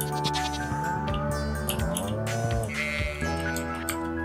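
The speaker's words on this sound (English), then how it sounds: "ooh, sheep" Sheep on a farm in the video game Stardew Valley bleat several times in close succession, clear and near over a soft, continuous tonal background.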